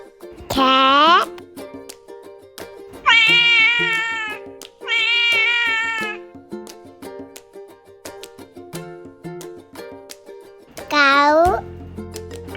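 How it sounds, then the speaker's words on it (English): A cat meows four times, each a clear, close, drawn-out call separated by pauses, over soft background music. "cat,"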